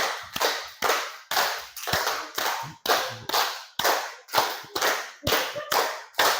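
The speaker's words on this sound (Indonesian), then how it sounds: "Sekarang kita coba tepuk 5 tapi 3 kali." A group claps together in a rhythmic pattern, about a dozen sharp, unified claps in repeating short groups with brief gaps, each clap ringing and decaying quickly in a small room.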